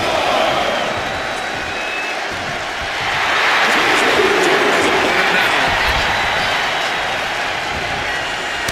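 An arena crowd in the WWE 2K25 wrestling game roars steadily throughout, swelling louder midway, as a continuous broad wash of cheering beneath faint commentary.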